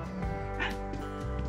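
A dog in a hillside mountain village barks close by, a short burst of loud, yelping barks within about a second and a half.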